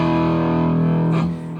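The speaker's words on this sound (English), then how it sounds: "I've got a pretty healthy dose of distortion or gain going" A distorted electric guitar chord rings out with a gritty crunch tone, sustaining steadily before easing slightly toward the end.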